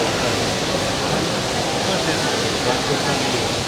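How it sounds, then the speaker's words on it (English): Water pours steadily down a water feature in a Singapore retail district, a dense, continuous rushing roar close by that holds even throughout, with no clear voices on top. "Still got that tiny bit of water left to come through."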